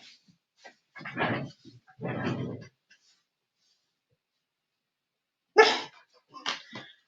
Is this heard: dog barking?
yes